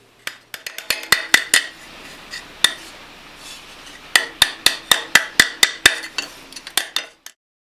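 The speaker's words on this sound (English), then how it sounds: "you just need to do a little bit of hammering to refine the shape and clean up any irregularities" A forged iron Betty lamp pan is hammered on a flat stake: sharp, ringing metallic blows, close and loud, come in uneven bursts of quick strikes separated by short pauses, with no talking.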